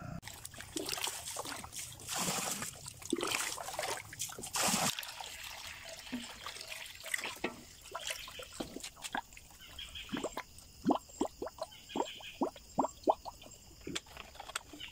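Water runs into a container being filled, first a gushing splash, then a rhythmic series of drips and gurgles, close and fairly quiet.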